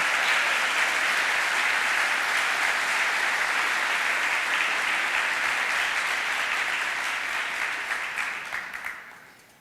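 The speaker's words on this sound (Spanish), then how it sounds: "Para todos, por favor, un fuerte aplauso." Sustained audience applause fills a speech hall, a dense steady wash of clapping that holds evenly before fading out over the final second.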